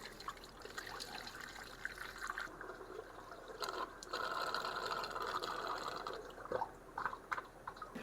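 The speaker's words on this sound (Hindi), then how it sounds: "इसमें यहाँ से पानी डालेंगे" Water poured into a homemade pressure washer built from a gas cylinder, a continuous close trickling and splashing stream with a low steady hum underneath, no voices.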